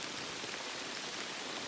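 Steady rain falling on a rainy day, an even, close hiss of many drops with no breaks and no voices.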